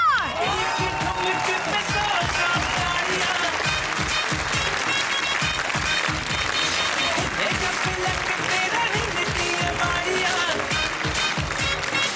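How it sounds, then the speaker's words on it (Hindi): A studio audience on a television entertainment show gives loud, sustained applause welcoming guests onto the stage, a dense, steady roar of clapping throughout, with a voice faintly underneath. "आप सबकी बहुत सारी तालियों में"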